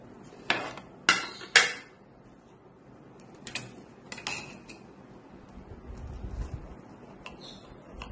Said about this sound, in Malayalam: അതിനൊന്ന് കട്ട് ചെയ്തെടുക്കാം.